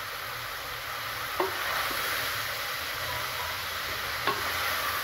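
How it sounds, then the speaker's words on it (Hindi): Flat beans (papdi) sizzle in hot oil in a pan, a steady close hiss lasting throughout, with a couple of faint stirring knocks. "खूब अच्छे तरीके से तेल में भून चुकी है."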